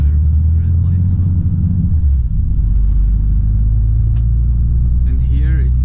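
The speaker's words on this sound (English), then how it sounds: "I would just engine brake my way to the red light stop" A manual truck engine-brakes downhill toward a red light in Älvsjö, Stockholm, with a loud, steady low engine drone that drops in pitch partway through. Someone talks over the rumble.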